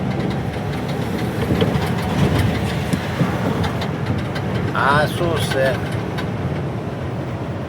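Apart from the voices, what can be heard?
Ashok Leyland truck engine on Dahivel ghat road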